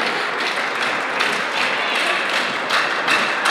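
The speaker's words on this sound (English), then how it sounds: "Crowd rallying behind James Jeffries." A wrestling crowd at an IPW heavyweight title match claps and cheers steadily, rallying behind James Jeffries, with dense, continuous applause and occasional louder swells throughout.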